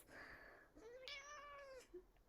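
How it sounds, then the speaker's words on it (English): A pet cat gives a clear, drawn-out meow close by, preceded by a softer breathy chirp, in a quiet room. "This is my kitty Norma Desmond."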